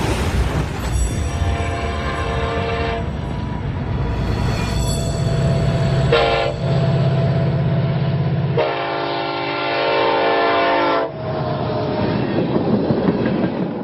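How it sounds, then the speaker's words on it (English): Long oil tanker freight train of about 118 cars rolling through a shipping terminal in Trenton, North Dakota, with steady loud rumble and wheel clatter, several sustained horn blasts rising over the roar partway through. "oil tanker trains 118 cars long come and go at a shipping terminal"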